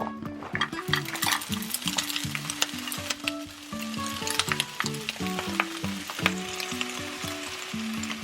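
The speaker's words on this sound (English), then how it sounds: "I'll let that just simmer so that it's not frozen anymore while I prepare everything else" Frozen pie filling sizzles steadily in a hot pan, a dense close crackle with light scraping and stirring clinks throughout, and music plays along underneath.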